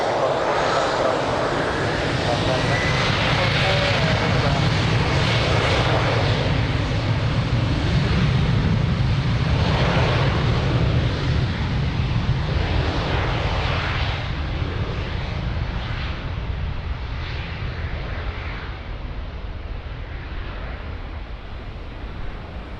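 An airliner taking off at Lisbon Airport roars with a broad, heavy engine rumble that stays loud throughout and slowly eases as the aircraft pulls away.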